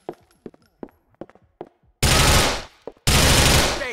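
Gunfire in GTA IV: several short, sharp shots in a quick irregular cluster, then two long, loud bursts of sustained automatic fire close up, each fading out over about a second.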